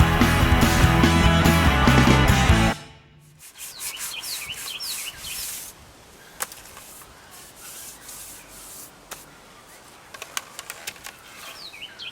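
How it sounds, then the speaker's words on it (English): Sandpaper rubs back and forth along the middle section of a wooden longbow, a soft, close scratchy rasp in uneven strokes, following a few seconds of loud music at the start. "So I'll just smooth out this middle section a little bit right here with some sandpaper for a while."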